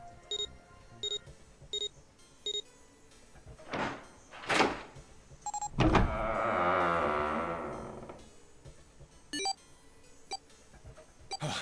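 A door in the video game 999 opens, with a long sliding whoosh that swells and fades, set among thuds, short electronic beeps and scattered game sound effects.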